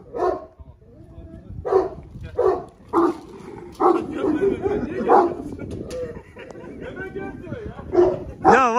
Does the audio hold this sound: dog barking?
yes